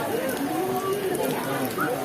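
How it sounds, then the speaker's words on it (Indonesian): Evening rain falls on a crowded outdoor concert ground, a steady patter of drops blended under voices and tonal music from the stage. "turun hujan lagi teman-teman."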